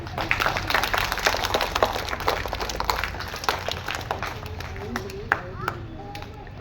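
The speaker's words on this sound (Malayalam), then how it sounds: "പഠിച്ചു പറഞ്ഞാൽ നല്ല ക്ലാപ്പ് കൊടുത്തേ." Children in a class assembly clap together, a dense patter of small hands sustained throughout at moderate level, with voices murmuring underneath.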